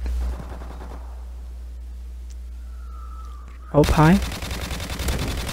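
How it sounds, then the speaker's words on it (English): Assault rifle fire in the game Modern Warfare Remastered comes as a sudden loud burst of shots near the end, after a quieter stretch, with someone talking over the opening moments. "Just get melted by this new assault rifle here"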